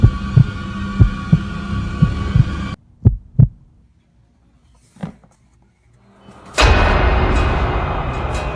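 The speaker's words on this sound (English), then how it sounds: "The heartbeat in my chest was the only sound as I picked up the box and turned it around." A heartbeat sound effect thumps in slow, even double beats under a droning hum, drops to a few isolated beats in near silence, then gives way to a loud rushing wash.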